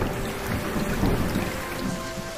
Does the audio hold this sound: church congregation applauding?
no